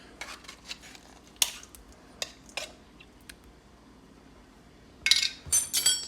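A metal utensil scrapes and clinks against a tuna can while someone works the fish out, giving sparse, sharp taps and scrapes at close range with a louder cluster of clattering near the end.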